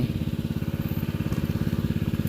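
A small engine-driven water pump drains a pond for clam gathering, running with a steady, rapid, chugging pulse that sounds close and continuous.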